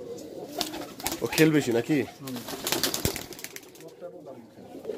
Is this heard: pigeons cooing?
yes